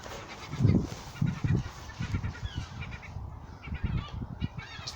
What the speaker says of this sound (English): There's 2 baby gulls in here.